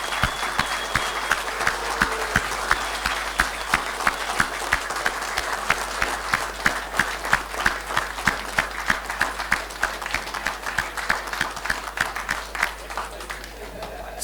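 Convention audience at the CeSFuR furry convention applauding, with steady, crowded clapping that fills the room throughout and fades slightly toward the end.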